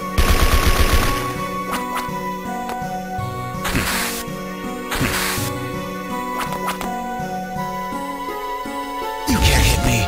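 Optical Shot attacks in Castlevania: Order of Ecclesia fire as several sharp blasts over the game's background music, loud and separated by gaps, with a voice heard alongside.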